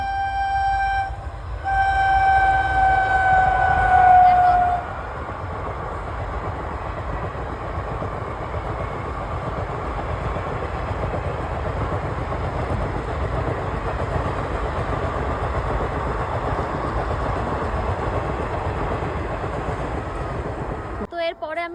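A train rolls past on a railway line beside a mustard field, its horn blaring early before giving way to a long steady rumble and clatter of wagons close by.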